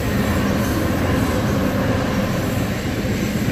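A Union Pacific train rumbles past at close range in Fonda, New York, a loud, continuous roar of wheels and wagons with no pause.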